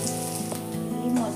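Oil sizzling steadily as tempering spices fry in a pan on a stove for curd rice, a close, continuous crackle with faint pops throughout.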